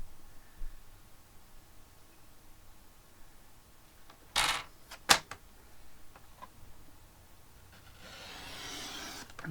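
A paper cutter slices diagonally across cardstock, giving a quick scraping swipe followed by a sharp snap, then faint handling rustle, close and alone with no talking.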